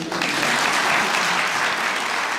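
Dense audience applause at a Kocaeli Health and Technology University academic year ceremony, a loud, even roar of many hands clapping continuously throughout.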